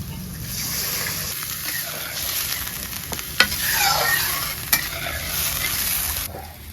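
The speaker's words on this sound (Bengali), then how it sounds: "এখন আমি জল দিয়ে দেবো" Water is poured into a sizzling pan of Bengali potato and fish curry, with steady frying hiss and stirring scrapes, close and fairly loud, and a few clinks.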